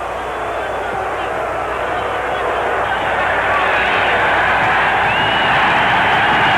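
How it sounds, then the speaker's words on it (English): A boxing crowd reacts to the 1947 Joe Louis–Jersey Joe Walcott decision, a dense, steady roar of many voices that swells slightly louder toward the end. "The crowd voices its opinion."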